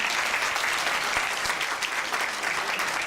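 A steady round of clapping from a crowd at an Indian Republic Day celebration at a Hindu temple, even and sustained for a few seconds, with no voices over it.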